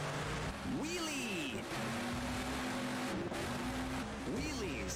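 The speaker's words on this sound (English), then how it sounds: "Wheelies completed. Donuts completed." A monster truck in the Monster 4x4 video game revs and whines through wheelies and donuts, its engine pitch sweeping up and down steadily, with tire noise running underneath and a game voice speaking over it.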